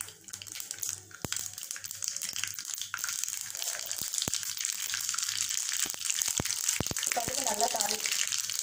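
Mustard seeds spluttering and popping in hot oil in a pan while cooking khandvi, a close crackling sizzle with scattered sharp pops throughout.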